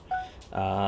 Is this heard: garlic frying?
no